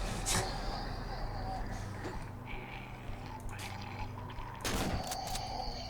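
Gunfire in the horror video game Cry of Fear, a couple of sharp shots standing out over a noisy, rumbling game soundscape, one near the start and another louder burst toward the end.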